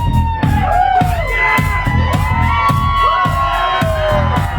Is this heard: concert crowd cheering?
yes